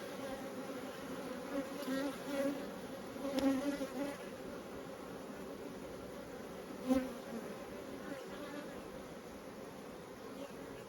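A steady, dense hum of many honey bees buzzing close by in an open hive, continuous and droning with occasional louder swells as individual bees pass near.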